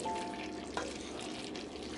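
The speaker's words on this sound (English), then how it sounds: "mix it really good so that the oyster sauce is well blended in" Pork and chicken adobo with soy and oyster sauce is stirred in a pan, giving a soft, continuous low sizzle and bubbling with a faint utensil scrape, heard close and without speech.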